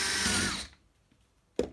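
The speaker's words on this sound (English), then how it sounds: "I'm just going to drill the hole down through the plastic." A power drill with an 8.5mm bit bores through kayak plastic in a short whirring burst of under a second, then falls quiet before a brief knock.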